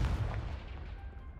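Confringo blasting spell explosion in Hogwarts Legacy, one low booming burst at the start that rumbles and fades over about a second and a half, moderately loud, no talking.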